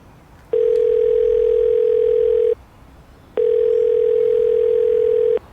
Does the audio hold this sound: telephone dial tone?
yes